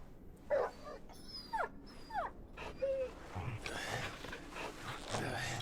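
A dog whimpering in the video game Final Fantasy XVI, several short high whines and yelps in the first half, followed by rustling game sounds and background noise.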